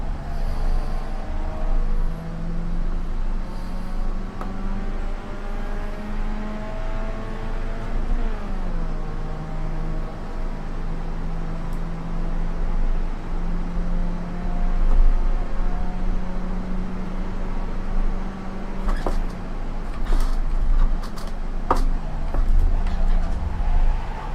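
Pro Mazda open-wheel race car in a racing video game at Sebring club circuit: a loud, steady engine drone with rising and falling gear-shift pitch sweeps throughout, a sharp downshift near the middle, with no talk.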